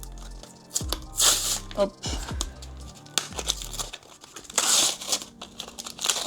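Trading card booster pack wrappers being torn open in bursts of crinkling and ripping foil, close and loud, with brief pauses and a short spoken word between tears.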